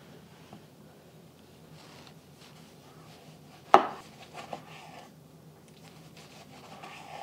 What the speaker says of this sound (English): I'm also going to slice up some tomato, cucumbers, and lettuce